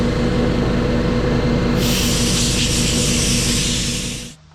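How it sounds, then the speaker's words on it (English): Air blower cleaning a Maserati air filter: a loud, continuous roaring rush of air that turns harsher and hissier midway, then cuts off abruptly near the end, close up with no talking. "I'll probably just blow it off with an air blower."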